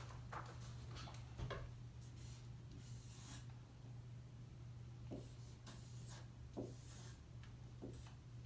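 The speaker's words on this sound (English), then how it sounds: "I'll go ahead and write these on the board." Marker or chalk scraping and tapping on a classroom board as problems are written up, intermittent strokes over a low steady hum, moderately close, with no talking.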